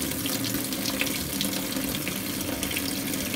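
Water pours steadily into an LG fully automatic washing machine already holding detergent powder, a continuous, close rushing and splashing with no pauses or talk.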